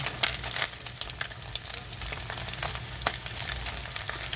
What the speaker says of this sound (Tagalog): dito na daw po nagtatapos ang aking pagbibideo ng aking pagpiprito ng chicken skin